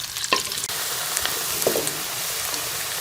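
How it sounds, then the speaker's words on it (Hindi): Potatoes frying in hot oil for Kashmiri dum aloo, a continuous loud sizzle with a few clinks and stirring scrapes from a utensil in the pan. "हम इसे जो है वो गोल्डन होने तक फ्राई कर लेंगे।"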